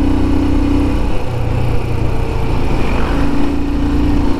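A Royal Enfield Himalayan motorcycle climbs a hill road toward Sonmarg in Kashmir, its single-cylinder engine thrumming steadily and loudly under wind rush, with a low, even drone throughout.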